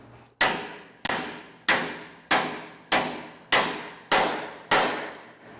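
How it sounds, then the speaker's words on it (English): A dead blow hammer strikes a bolt on a utility trailer shackle eight times in a steady rhythm, each hit a sharp close knock that rings briefly before the next. "So I'm going to hit this with my dead blow."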